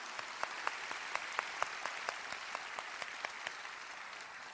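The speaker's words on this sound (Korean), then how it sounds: "우리 주님께 영광의 박수 올려드립시다." A church congregation at a prayer meeting claps in a steady, even rhythm, many hands striking together on each beat, heard fairly quietly from a distance over a constant room hiss.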